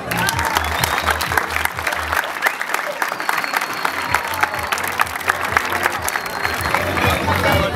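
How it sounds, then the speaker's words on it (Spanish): A crowd at a youth football tournament trophy presentation claps for a club, a dense, steady, loud applause that carries on without pause. "un aplauso para el Club Atepam"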